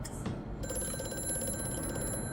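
Telephone ringing in the horror video game Amnesia: A Machine for Pigs, a bright tonal ring starting sharply and holding steadily over a low ambient rumble, no voices.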